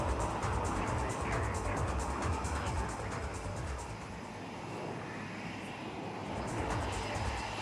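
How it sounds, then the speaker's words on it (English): Sukhoi-30 jets at a flying display during the Aero India Show 2021, giving a steady, loud broadband roar that swells and eases slightly across the whole stretch, with no talk over it. "there comes Sukhoi-30 1, 2 and 3 and that's number 3 drawing circles behind 1 and 2"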